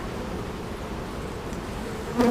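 Steady, dense buzzing of many bees fills the air, a continuous low drone with no pauses, close and moderately loud throughout.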